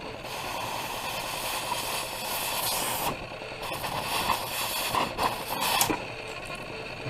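An oxy-fuel gas cutting torch slicing through metal, a steady loud roaring hiss with rough crackling bursts and a few brief dips, continuous for about seven seconds with no talk.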